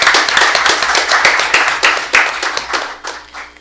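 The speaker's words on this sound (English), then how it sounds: "Can we get a round of applause for that?" A round of applause from an audience at a mascot gathering, loud and close, with sharp individual claps standing out in a dense burst that tapers off near the end.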